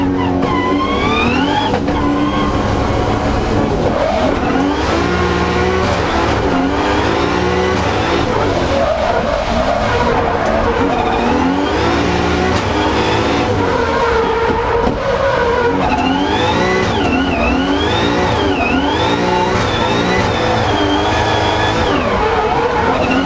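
A drift car at Driftland circuit screams through a run, loud engine revs rising and falling against constant tyre squeal and skidding, close and sustained, with a second car's engine audible alongside at times.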